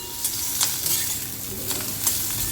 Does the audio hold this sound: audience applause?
no